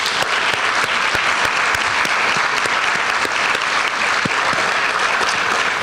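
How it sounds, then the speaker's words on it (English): An audience at the CTE senior awards applauds, dense and continuous clapping with sharp individual claps standing out, sustained and loud for several seconds. "if we can give them a round of applause."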